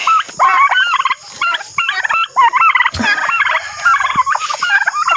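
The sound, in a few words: turkeys gobbling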